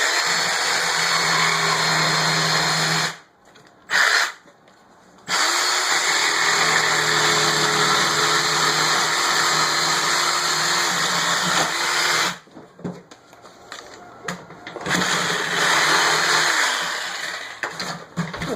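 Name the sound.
jigsaw cutting a piece out of a drawer part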